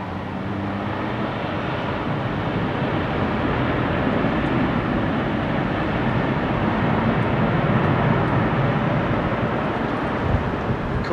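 An airliner lands on runway 27R at London Heathrow, and a steady broad roar of engines and rushing air holds at constant loudness throughout, with no speech.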